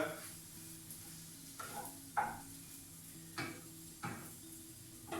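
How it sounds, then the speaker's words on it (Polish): Sausage and onion for scrambled eggs fry in a pan with a faint, steady sizzle, broken by several scraping stirs and clinks of a utensil against the pan. "Smażycie to chwileczkę jeszcze."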